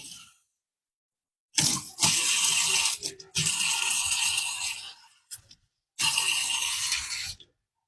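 Water running into a container in three separate bursts to thin dish soap, a steady close splashing pour broken by short pauses, with no talking.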